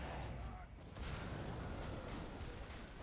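Repeated booming shots from a heavy bottom boom weapon in a video game, dense and continuous explosive rumble under a player's talking.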